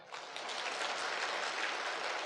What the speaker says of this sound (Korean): 맞으면 박수 좀 쳐봐